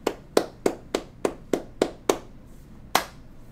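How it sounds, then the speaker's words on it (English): A handful of distinct, sharp handclaps ring out in a slow, slightly uneven rhythm, about nine in all with a pause before the last, close and fairly quiet rather than a crowd's ovation. "Let's give him a round of applause"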